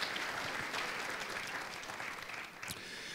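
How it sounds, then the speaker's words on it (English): An audience at an emergency preparedness town hall forum applauds, producing a steady, dense wash of clapping that stays fairly soft and even throughout, with no voices standing out. "Let's give her a nice round of applause."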